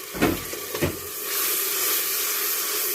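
Onion with garlic-ginger paste and spices frying in a pan for kulfa dal: a couple of soft thumps, then a steady, close hissing sizzle that swells and holds to the end.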